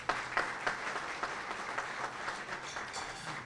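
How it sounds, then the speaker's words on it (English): A room full of guests at a chamber of commerce luncheon applauds the trustees, steady dense clapping with a few sharper claps standing out, continuous for a few seconds with no talking. "If we could have a round of applause for our trustees."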